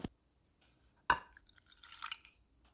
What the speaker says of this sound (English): Now add in 100 milliliters of normal tap water.